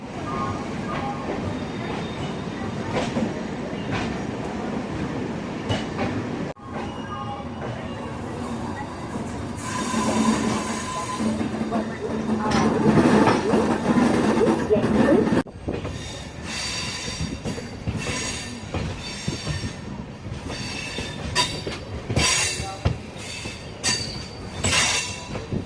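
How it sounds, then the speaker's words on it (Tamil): The Mangalore–Chennai Mail passenger train with new LHB coaches rolls along at an easy pace, its wheels rumbling and clattering over the rails and squealing at times. "சின்ன சின்ன ஸ்டாப்பிங்ஸ் கூட நிறையா நின்று போகக்கூடிய ட்ரெயின் பொறுமையாக தான் போகும்"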